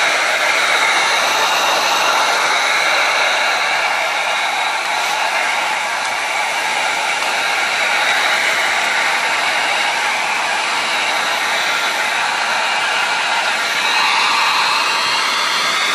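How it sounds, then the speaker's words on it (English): A heat gun blows steadily on vinyl wrap along the edge of a car roof, a continuous loud airy hiss holding an even level from start to finish with no talk. "I'm going to take the heat gun and heat all along this edge so it sticks nice and tight"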